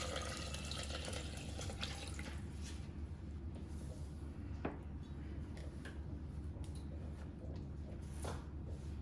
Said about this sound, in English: I'm gonna put about 500 milliliters of water in here.